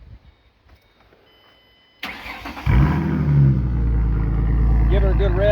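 A 2007 Ford Mustang V6 with straight pipes, wide open with no exhaust, cranks over and fires, then settles into a loud, rough, rumbling idle close by. Quiet background sounds come before the start.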